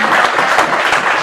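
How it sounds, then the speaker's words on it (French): A church congregation applauds during a sermon, a brief burst of close, brisk clapping that fills the moment alone. "est-ce que nous pouvons applaudir pour Jésus?"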